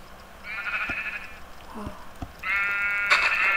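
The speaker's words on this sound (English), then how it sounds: "Oh, sheep. I'm going in. Whoa, that's a lot of sheep." Several sheep in the video game Yogurt Island bleat in quick succession, close and fairly loud, with a brief exclamation from a player between them.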